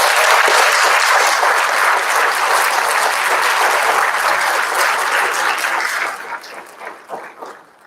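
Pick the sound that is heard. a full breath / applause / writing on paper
applause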